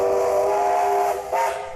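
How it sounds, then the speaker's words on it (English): The Kingston Flyer, steam locomotive AB795, sounds its whistle in one loud, sustained steady blast that dips briefly and then resumes near the end, with no talk. "AB795, better known as the Kingston Flyer, was fired up on Sunday as a tribute to Russell Glendinning and Davi"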